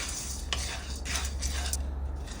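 A metal spoon stirring and scraping chana dal as it sautés in a pan on medium flame, soft intermittent clinks and scrapes over a low steady background hum, quiet and close, with no talking.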